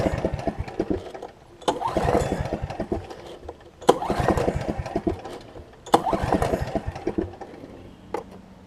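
A Snapper riding mower engine cranks in three separate bursts but does not start, a rapid chugging rhythm that stops between attempts. It is fairly quiet and nearby, with no voices.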